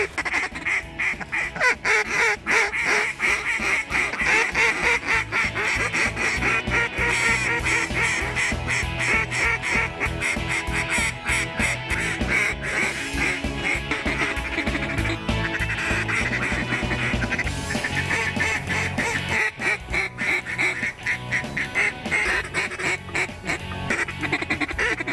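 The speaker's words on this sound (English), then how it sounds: "There's a bunch of gadwalls and mallards" Gadwall and mallard ducks quack and honk in a loud, busy chorus at a morning waterfowl hunt, dense overlapping calls close by throughout with no break.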